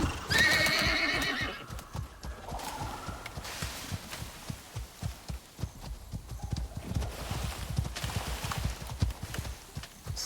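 Horse in a shooter video game neighs loudly at the start, then hooves clip-clop in a steady galloping rhythm for the rest of the stretch, close and prominent.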